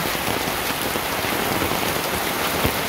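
Heavy rain pours down in Mawna, Gazipur, a dense, continuous hiss of drops striking surfaces, steady and close with no voices.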